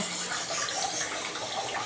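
Water is poured into a pot of Tirunelveli-style mutton biryani made with seeraga samba rice, giving a steady, continuous splashing rush that runs close and alone with no talk.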